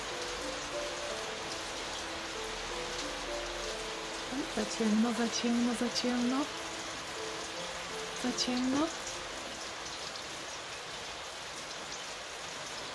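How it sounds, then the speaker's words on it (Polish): Steady rain drumming on a roof, a dense patter throughout, with a voice speaking briefly over it midway. "I możemy posłuchać deszczu"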